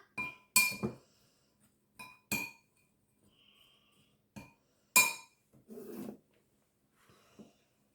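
Cornbread mix stirred in a bowl, with sharp utensil clinks and scraping strokes against the bowl in irregular bursts separated by quiet gaps, close and fairly faint.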